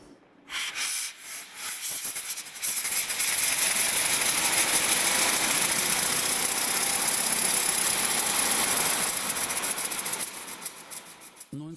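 A hand-cranked 1902 Simplex car engine, which has no electric starter, catches after a few rough cranking turns and settles into a loud, steady, hissing mechanical running roar that lasts for several seconds before easing slightly at the end.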